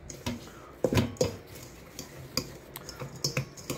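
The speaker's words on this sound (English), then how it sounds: "So now, we stir it all up." Chopped apples and oats for a campfire apple crisp stirred in a pot outdoors, heard as irregular close clinks and scrapes of a utensil against the pot, with no talk.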